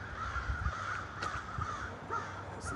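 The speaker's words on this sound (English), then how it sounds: "Listen to those birds," Crows cawing outdoors in daylight: several harsh caws come at intervals, moderately distant and faint over a steady background of low rumble and outdoor noise, with no speech.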